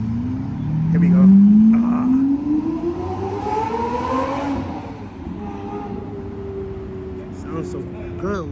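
At a car meet, a rare Lamborghini, an Aventador or Murcielago, revs loudly with a rising engine pitch, then drives off with the engine fading into the distance while people talk nearby.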